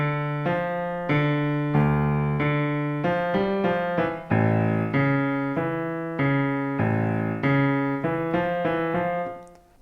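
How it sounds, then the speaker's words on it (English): Piano bass line from a pop song, played alone as steady, evenly repeated low notes in a simple four-beat pattern, close and clear with sustained tones. "So the bass line is going to sound like this."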